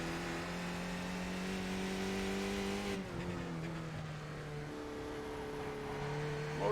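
Race car engines drone steadily around a track at Lime Rock, heard from a distance, with the engine pitch shifting as cars change gears and pass, and no talk.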